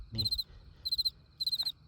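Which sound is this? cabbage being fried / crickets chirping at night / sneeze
crickets chirping at night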